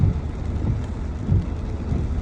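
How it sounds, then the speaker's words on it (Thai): Heavy morning rain pours down on a flooded street in Chiang Mai, Thailand, a dense, loud, continuous wash with low rumbling underneath and no voices. "ฝนตกหนักมากเช้านี้ที่เชียงใหม่"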